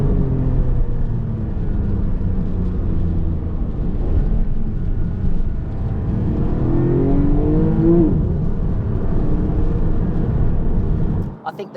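A Porsche 718 GTS 4.0 engine roars and revs continuously, held at high revs, with rising and falling pitch sweeps, loud and close, cutting off abruptly at the end.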